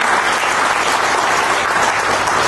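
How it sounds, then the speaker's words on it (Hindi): A seminar audience applauds for an honoured participant, dense sustained clapping filling the room loudly and evenly throughout. "प्रमोद कुमार जी के लिए तालियां"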